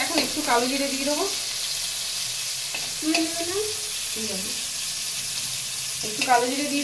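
Prawns fry in a wok with nigella seeds tossed in, giving a steady oily sizzle and scraping stir sounds, with short bursts of talk over the cooking.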